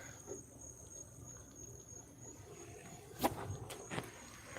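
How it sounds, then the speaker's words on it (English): A large grasshopper gives a sudden loud rasping burst outdoors, followed by a few weaker scratchy bursts, over a steady background hum of other insects. "That was a big grasshopper."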